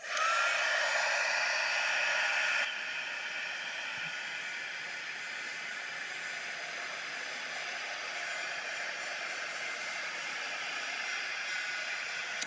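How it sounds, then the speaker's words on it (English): A heat tool blows a loud, steady hiss while setting gold embossing powder, stronger for the first couple of seconds and then holding at a slightly lower, even level throughout, close by with no voices. "Now I'm going to heat set it."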